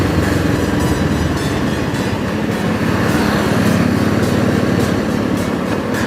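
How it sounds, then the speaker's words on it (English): A motorcycle engine drones steadily close up as the rider eases off to slow the bike, a continuous rough mechanical rumble with no pauses. "I'll just slow down my bike."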